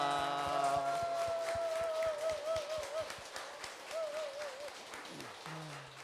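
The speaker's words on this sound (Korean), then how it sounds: "우리 불자 여러분들이 낼 수 있는 최대한의 박수 소리로 스님께 인사를 올리면 어떨까 싶습니다" Buddhist congregation applauding a monk in thanks at a temple gathering: sustained, dense clapping from a large crowd that swells and then tapers, with faint tonal music running underneath.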